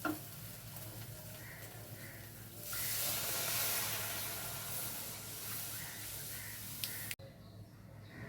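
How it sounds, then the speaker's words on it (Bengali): Water poured into a pan of well-fried spice paste for a Bengali chital fish muitha curry, giving a broad steady hiss that swells midway, stays loud for several seconds, then cuts off abruptly. "এখন আমি জল দিয়ে দিচ্ছি"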